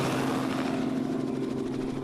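A helicopter landing in mountainous terrain makes a steady, loud rotor and engine drone with a low throbbing hum, continuous and close throughout.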